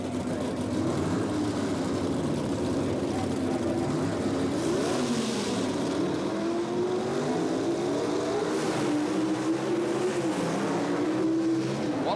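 A 438 cubic inch big block Chevy Camaro and a rival car roar down a drag strip in handicap eliminator racing, a loud sustained engine scream rising through gears, distant and continuous for several seconds.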